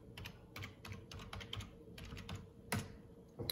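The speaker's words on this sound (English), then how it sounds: "I'm gonna type my password." Password typed on a keyboard during Steam Deck setup for Hogwarts Legacy: a run of close, crisp key clicks in an uneven rhythm, with one sharper keystroke near the end and no talk.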